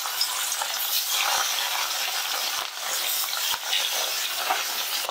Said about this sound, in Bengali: দাগার পিসগুলো ভাজার পরে আমি এবার পেটিগুলো ভেজে নিচ্ছি।